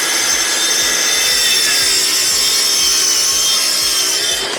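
A saw cuts through plywood in steady, rapid back-and-forth strokes, a close, loud, continuous rasp with no pauses.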